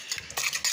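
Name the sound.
stirring marinade with yogurt and chicken in a bowl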